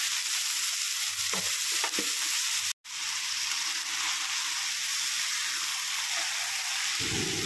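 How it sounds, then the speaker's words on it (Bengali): Chicken and Gobindobhog rice fry in a pan for chicken pulao, giving a continuous loud sizzle broken by a few stirring scrapes and one brief dropout. "दिए आबारो एकटू भेजे निয়েছি"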